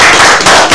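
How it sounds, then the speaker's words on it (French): A studio audience on a TV set claps loudly and densely, a close, continuous burst of applause lasting under a second. "Est-ce que vous pouvez vous applaudir s'il vous plaît?"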